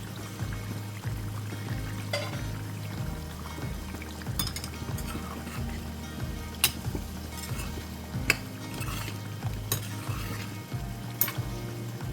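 Kaleji (goat liver) masala, Agri Koli style, cooks on a low flame in a pan with a lid, giving a soft, steady sizzle over a low hum, broken by occasional sharp clinks and scrapes.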